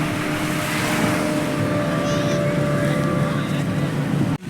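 Motorboats churn near the shore at Shivrajpur beach near Dwarka, giving a steady, close engine drone with wind noise and faint background voices.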